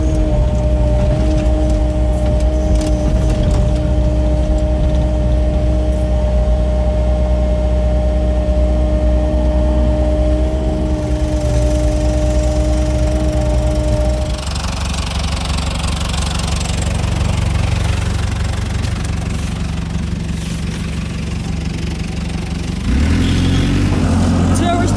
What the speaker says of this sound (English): Hopefully the dumper will start.